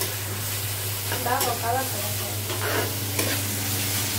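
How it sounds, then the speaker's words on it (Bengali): Onion and spice paste stirred and frying in a pan for a rohu fish curry, a steady close sizzle with scraping stirs, while a voice speaks briefly over it and a low constant hum runs underneath. "তো এটা পেঁয়াজ মশলাটা সুন্দর করে কষায় নিচ্ছি।"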